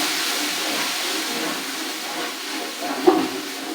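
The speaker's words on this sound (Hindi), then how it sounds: "तो हम इसमें डालते हैं लहसुन अदरक का पेस्ट" Garlic ginger paste hits a large hot pot of onions for a 50-serving chicken biryani, giving a loud, broad, continuous sizzle and hiss, with a brief clatter near the end and no talking.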